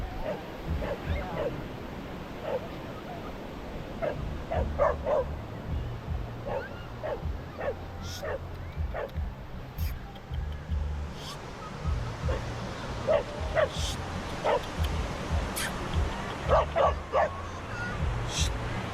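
Territorial dogs in Baler, Philippines, bark repeatedly, some sharp yips and a few whimpers, over a steady background rush like surf.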